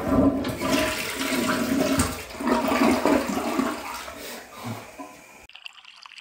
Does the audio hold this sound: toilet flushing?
yes